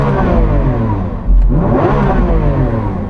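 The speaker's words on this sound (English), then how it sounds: "So I'm going to rev up this SVJ." A Lamborghini Aventador SVJ revs hard and close, its V12 engine roar swelling, dipping briefly, then surging again as a loud continuous blare with no talking.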